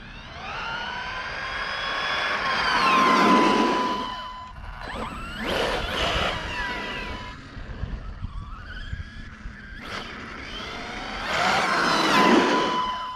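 A radio-controlled car engine screams and revs as its slipper clutch slips slightly under load, producing loud rising and falling whines that surge, fade and return in bursts.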